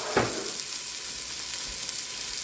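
Halved small onions browning in a hot pan give a steady, close sizzle with a brief louder crackle near the start, continuous and without talk.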